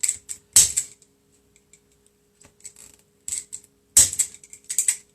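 Scissors snip through paper flower pieces in short bursts of crisp cutting, with quiet pauses between clusters of snips, close and clear.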